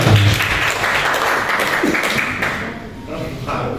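A group at a school training session claps together in a rhythmic pattern, a dense wash of hands with voices mixed in and occasional louder taps.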